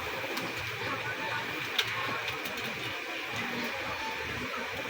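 Rampuri pigeons coo softly and intermittently at a pigeon dealer's, the low calls half-buried under a steady background hiss with no talking.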